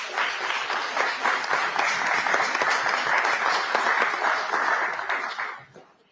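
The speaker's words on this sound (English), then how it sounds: "You can clap." A debate audience applauds after a team member is announced. The clapping stays steady and full for about five seconds, then tapers off.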